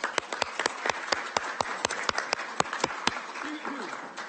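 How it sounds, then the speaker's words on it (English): An audience at a city council meeting applauds, many hands clapping with sharp, irregular nearby claps standing out over the crowd, and a voice speaking briefly near the end. "I want to give you a round of applause for that."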